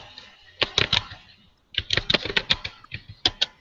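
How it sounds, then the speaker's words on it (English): Fingers typing on a computer keyboard nearby, bursts of rapid, uneven clacking keystrokes broken by a short pause, fairly loud and unaccompanied by speech. "your typing is making it go wonky"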